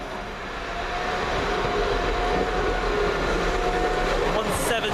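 A London Midland passenger train rolls into Smethwick Galton Bridge station, a loud steady rumble of wheels and engine that builds and holds, with a faint squeal near the end.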